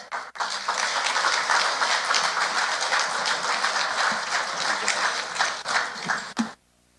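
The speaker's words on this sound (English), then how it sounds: "please give him a big hand of applause, Mr. Pervez Ahmed" Sustained, dense audience applause at an Indus Hospital fundraising event in North America, greeting Mr. Pervez Ahmed. It holds at an even level for about six seconds, then cuts off abruptly.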